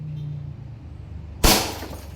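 A target is hit by a shot from a WE Hi-Capa 3.8 Brontosaurus airsoft pistol and bursts with a single sharp, loud glassy crack and shatter. Quiet room tone comes before it, and a short ringing decay follows.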